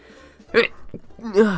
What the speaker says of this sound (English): just had to sneeze there